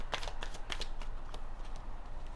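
Tarot cards being shuffled close by, a run of quick papery riffles and soft flicks with sharp bursts of card edges snapping together, alone with no voices.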